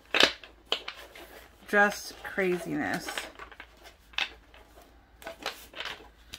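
Tarot cards shuffled clumsily in short bursts of riffling and slapping, heard close up between and under a woman's chatter.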